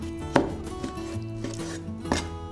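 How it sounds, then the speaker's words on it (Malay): Chicken breast is chopped into small cubes on a board, giving two sharp knife strikes about two seconds apart with quieter handling between them. "Cik Nom nak tambah isi ayam sikit. Potong pada cube kecil."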